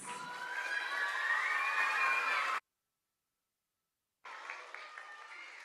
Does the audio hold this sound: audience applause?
yes